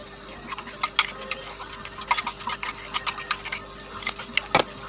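A spoon scrapes and stirs ground green chili paste into an eggplant curry in a pan, giving a run of quick soft rubbing and clicking strokes, close and fairly quiet, with no speech.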